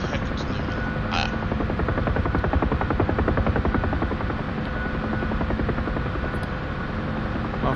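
Helicopter in the DCS flight simulator, a steady, close rotor thrum with rapid regular blade chop over a continuous engine drone, loud and unbroken throughout, with a few faint brief ticks on top.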